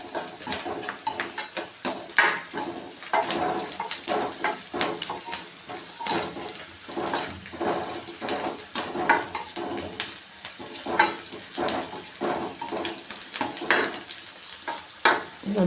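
Chopped onion, ginger and garlic fry for gobi manchurian with a steady sizzle broken by repeated rhythmic scraping and stirring strokes of a spatula against the pan, close and fairly loud.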